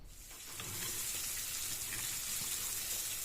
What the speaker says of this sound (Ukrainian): У мене тут зранку смажиться рибка.